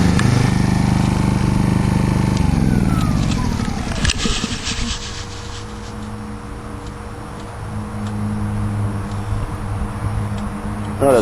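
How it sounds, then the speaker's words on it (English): A Yamaha EF1000IS portable generator running at a fairly fast idle, a steady engine hum that shifts pitch early on, then settles into an even, fairly loud drone. "but certainly quieter than a big generator, the EF1000IS."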